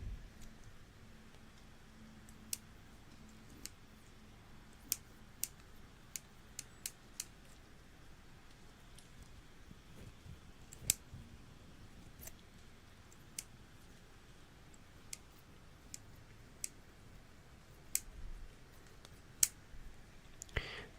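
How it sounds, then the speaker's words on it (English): Layering scissors snipping hair during a quiet ASMR haircut, sparse crisp clicks and snips at irregular intervals, close and soft, with faint whispering in the background. "We need to get my layering scissors."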